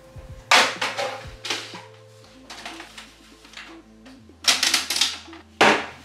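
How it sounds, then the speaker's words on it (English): A Canon PIXMA inkjet printer runs its automatic printhead alignment, giving rapid mechanical clatter in bursts with pauses between, over a low steady motor hum and a few faint tones. "for a few minutes the printer will make some noise"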